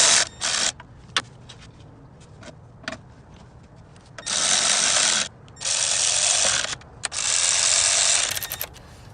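Valve cover bolts are snugged with a ratchet during a valve cover gasket install: quick bursts of clicking give way to three long, loud runs of rapid ratcheting with brief pauses between them, close up and with no talking.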